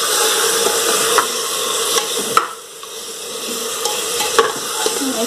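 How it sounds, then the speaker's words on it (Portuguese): Chicken and rice frying in a pan, stirred and scraped with a utensil while it sizzles loudly, with distinct stirring knocks against a steady hiss; no one speaks. "Vou mexendo."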